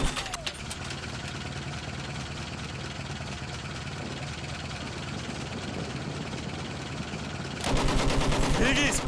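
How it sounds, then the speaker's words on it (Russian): Battlefield 1 enemy machine gun fire, a steady rattle of distant automatic fire beneath engine rumble and battlefield noise, growing louder and closer near the end as a rapid burst, with voices talking over the mix. "Пулемет! Вражеский!"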